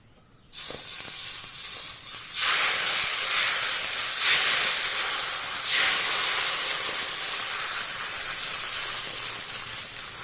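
Raw banana dosa batter is poured onto a hot, oiled iron pan and bursts into a loud, sustained sizzling hiss that swells in waves and then settles into steady frying.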